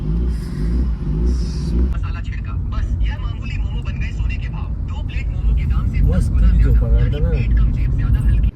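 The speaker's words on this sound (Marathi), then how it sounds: "ट्रॅफिक आहे बघा" Low road rumble and passing traffic heard from inside a car, a steady drone that grows slightly louder, with people talking over it.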